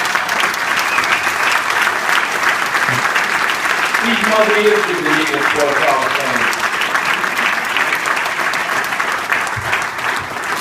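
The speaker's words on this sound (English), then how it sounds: "Please give a round of applause to Mr." Loud, steady applause from an audience filling a sports hall of fame ceremony for a 1994 baseball team in Geneva, continuous throughout, with a voice speaking over the clapping partway through.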